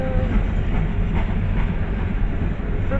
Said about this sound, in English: this train here is a loaded coal drag going to Bow, New Hampshire, outside of Portsmouth, New Hampshire